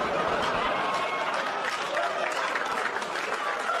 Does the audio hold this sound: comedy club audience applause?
yes